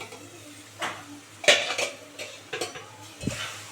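A lid lifted off a cooking pot of simmered note shak greens, heard as a few close metallic clinks and scrapes over a low steady background hum, with no talking.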